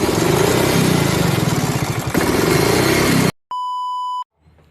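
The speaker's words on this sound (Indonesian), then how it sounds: "sebuah mesin tidak mati ketika kabel busi dilepas" Small gasoline engine dieseling with its spark plug cable removed, running loudly and roughly with a steady mid-pitched drone for about three seconds, then cutting off abruptly before a steady electronic beep tone.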